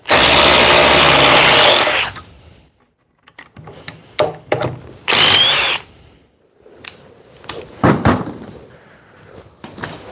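A Dewalt DCF870 impact driver drives a long screw in a loud two-second burst, followed by clacks and knocks and a few shorter bursts as the test runs.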